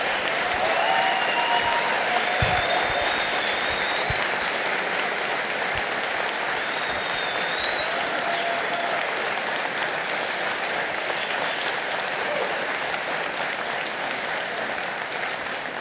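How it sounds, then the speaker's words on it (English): At a refinery advisory group and labor committee community meeting, a large audience gives loud, sustained applause mixed with cheering and whistles that continues unbroken throughout. "there's nothing better than following the loudest and longest cheer of the evening"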